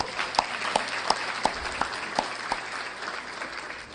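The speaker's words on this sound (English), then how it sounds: "Let's get a big round of applause for everybody." Audience applause at a South Florida community gala in 2018, with distinct claps landing in a slow, roughly even rhythm over a low room murmur, gradually thinning toward the end.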